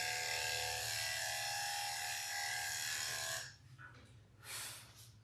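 Electric clippers buzz steadily while grooming a dog, a continuous close hum that cuts off about two-thirds through, leaving quiet with brief soft rustles.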